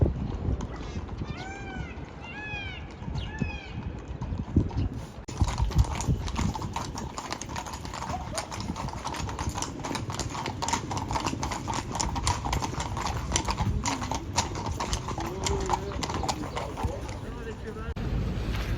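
Horse hooves clip-clopping as mounted guards in colonial-style dress ride past on palace grounds in Madrid: a steady stream of many close hoof strikes over crowd murmur, with a brief whinny early on.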